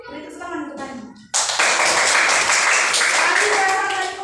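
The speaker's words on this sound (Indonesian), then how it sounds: "Beri tepuk tangan untuk Panji." Primary school classroom clapping for a pupil after a teacher's speech, a sudden loud burst of many small hands that stays steady and close after the talking stops.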